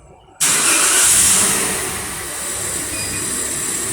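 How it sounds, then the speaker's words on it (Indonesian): A car engine cranks and fires abruptly after a quiet moment, then settles into a loud, steady idle close by, ahead of an exhaust emission test. "sekarang coba kita hidupkan mesinnya"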